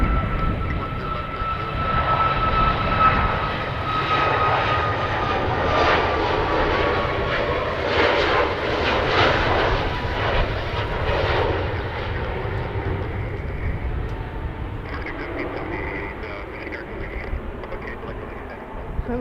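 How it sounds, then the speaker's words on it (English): Jet airliners at Edmonton International Airport, one climbing out on departure while a WestJet plane touches down, give a loud, steady roar of engine noise that swells and fades over the stretch, with a faint radio voice briefly audible. "It just departed and WestJet is just touching down."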